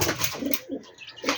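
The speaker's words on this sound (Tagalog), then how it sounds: "Ayan yung mga kalapati natin dyan." Pet pigeons cooing while being fed, soft low coos repeating close by, with light rustling and a flutter of wings between them.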